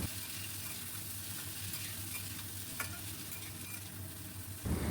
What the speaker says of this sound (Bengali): আবারও ভালো মতো আমি ভাজবো।